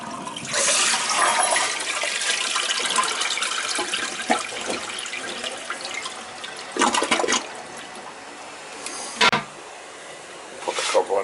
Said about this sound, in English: It's gonna flush all the antifreeze out.